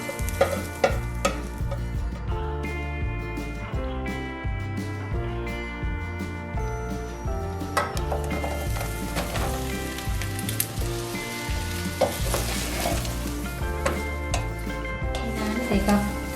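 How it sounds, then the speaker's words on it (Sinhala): Mushrooms frying in a pan, a continuous sizzle with occasional stirring scrapes heard up close, while steady background music plays throughout. "මෂ්රූම් ටික බැද ගන්න යන්නේ."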